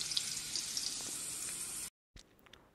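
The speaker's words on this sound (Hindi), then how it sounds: "ये मैंने तेल ऑयल गरम कर लिया है और इसमें मैं प्याज ऐड करता हूँ और इसको ब्राउन होने तक आपको भूनना है।" Onions fry in hot oil for a jackfruit biryani, giving a steady crackling sizzle that cuts off abruptly, then returns more quietly after a brief silence.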